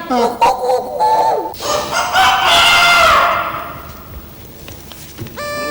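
A person's voice imitates a rooster in a Hindi comedy serial, rising into a long, strained crow after some brief vocal sounds, then trailing off.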